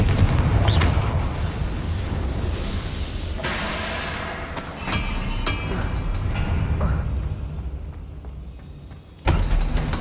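A Confringo fire spell in Hogwarts Legacy bursts into a loud, roaring blast amid the rumble and crashes of combat, with sustained heavy noise and a sharp final burst near the end.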